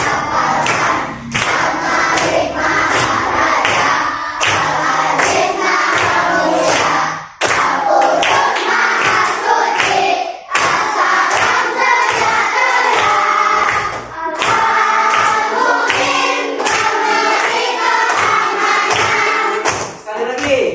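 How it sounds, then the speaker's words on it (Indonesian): An elementary school class in an Indonesian Islamic studies lesson chants in unison and claps along in a steady rhythm. The chanting and thumping claps keep going loud and close with brief pauses between lines. "Boleh pakai tepuk."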